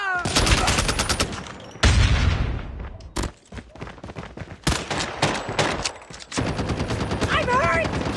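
Rapid bursts of automatic gunfire and sniper shots crack loudly in a shooter video game round, dense and continuous, with game voices shouting over the shooting.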